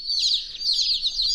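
Baby chicks in a brooder give a rapid, continuous stream of high, shrill peeping chirps, close and clear, with no talking.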